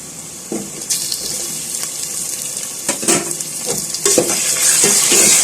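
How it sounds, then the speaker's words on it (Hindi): Chicken pieces frying with browned onions in a pan sizzle steadily, broken by several sharp scraping and stirring bursts that grow slightly louder toward the end, with no voices. "चिकन को भी फ्राई कर लूँगी।"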